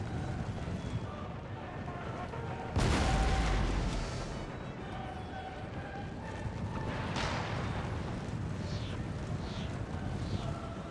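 Cannon fire in Empire: Total War, with one loud boom near the three-second mark and a second, weaker report later, set against a low battlefield rumble and some faint whistling.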